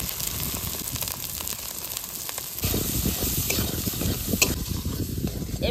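Banana flower cooking with a hilsa fish head in a pan, a steady close sizzle with frequent stirring scrapes that grow louder and busier partway through, no voices.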